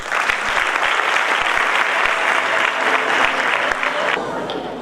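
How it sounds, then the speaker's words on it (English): A warm, loud round of applause from an audience gathered at a college event against gender-based violence, with dense sustained clapping that fills the hall before cutting off. "Please assist me to join in giving him a warm round of applause."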